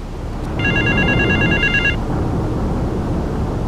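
A payphone rings in Grand Theft Auto 3, a bright electronic trilling ring lasting over a second, loud and close over a steady low game ambience with no talking.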